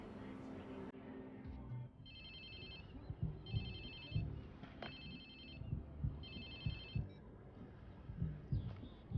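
A phone rings in the video game Watch Dogs 2, three bursts of a trilling electronic ring spaced a second or so apart, fairly quiet under low thumping background sounds.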